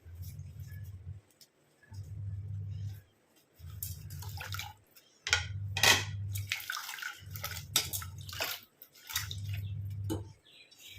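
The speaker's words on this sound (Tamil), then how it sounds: "எல்லா பூயும் நம்ம தண்ணியில் போட்டு நல்லா வாஷ் பண்ணிக்கலாம்." Flowers for a hair-darkening preparation being swished and washed in water, with repeated watery sloshing and dripping in rhythmic bursts, close and moderately loud, without talk.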